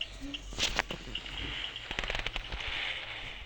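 Rapid bursts of explosions from a video game, with several sharp blasts crowding together early on and more crackling detonations later, heard over a steady hum of game background noise.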